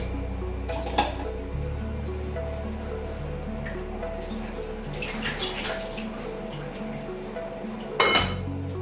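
A lid clanks onto a cooking pot of meat set over a low flame, with a sharp metallic knock near the start and another near the end over a steady kitchen hum.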